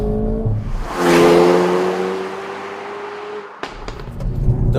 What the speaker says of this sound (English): when you press that, that's when the N car really starts to come alive.